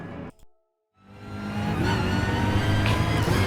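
A BMW M6 race car in the Gran Turismo racing game snaps back in after a brief silence, its engine building to a loud, sustained roar with a steady revving drone.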